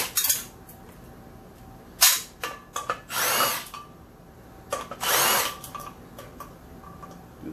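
A power tool spins nuts out of a sprint car wheel in several short, loud bursts of whirring with brief gaps and clinking metal between runs, close by and with no talk.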